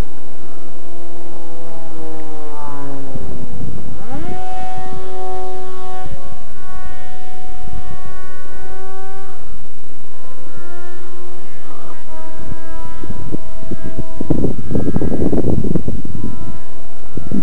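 A Delta 1200 model aircraft on its maiden flight screams past loudly, its engine whine rising and falling in pitch through continuous harmonic tones as it maneuvers, dominating the whole stretch with no voices.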